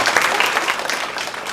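Audience at a ceremony breaks into steady, full applause, a dense wash of many hands clapping close and loud throughout.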